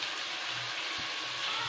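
Turkey meat frying in a pan, a soft continuous sizzle with faint stirring scrapes underneath, fairly quiet and close, with no voices.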